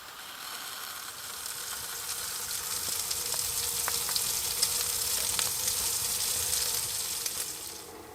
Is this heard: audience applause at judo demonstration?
no